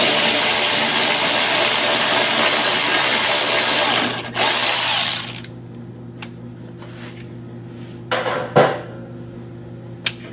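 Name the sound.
ratchet removing 10mm bolt from Camaro ZL1 apron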